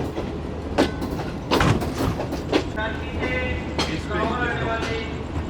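The Shalimar Express rolls into Lahore Junction, heard from inside its parlour car with a rhythmic, close clickety-clack of wheels and several high, drawn-out brake squeals as it slows.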